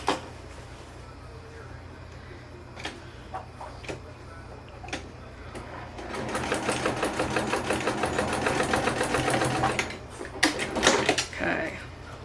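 A sewing machine that is acting up stitches a purse. It gives a faint ticking, then a denser mechanical whirring run of about four seconds, followed by a few scattered clicks.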